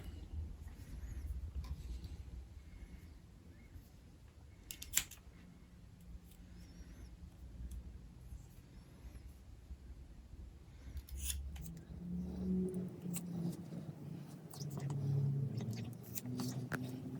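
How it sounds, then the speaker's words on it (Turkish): Scissors snip through a cat's mane as it is trimmed short, soft quiet cutting sounds spread across the clip under low background noise and faint murmuring. "Bir de birazcık da işte makasla ee, bu yelelerini kısaltacağız."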